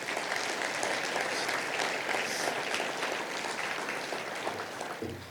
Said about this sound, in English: let's give all of those folks a round of applause